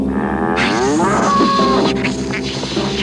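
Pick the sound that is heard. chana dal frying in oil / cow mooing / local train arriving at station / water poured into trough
cow mooing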